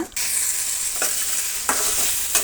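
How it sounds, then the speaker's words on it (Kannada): Chopped okra sizzles steadily as it is stir-fried in a pan, with a few distinct scrapes of the spatula against the metal breaking through the continuous frying hiss. "ಈಗ ನಾವು ಕಟ್ ಮಾಡ್ಕೊಂಡಂತಹ ಬೆಂಡೆಕಾಯಿನ ಸೇರಿಸೋಣ. ಸೇರಿಸಿ ಫ್ರೈ ಮಾಡ್ಕೊಳ್ಳೋಣ."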